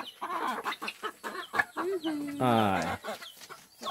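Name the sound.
chickens clucking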